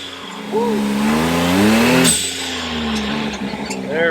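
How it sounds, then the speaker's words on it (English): Blow-off valve with a light spring on a Can-Am Maverick X3 side-by-side, fitted with an RPM Powersports valve: a loud engine rev rises then cuts with a sharp whoosh near two seconds, followed by idling and a second brief rev, with voices talking over it. "here's that classic blow off sound. This is the light spring, got her swapped out."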